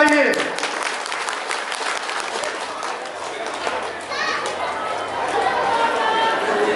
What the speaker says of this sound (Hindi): तो हमारे संत महात्मा के लिए जोरदार तालियां बजाइए।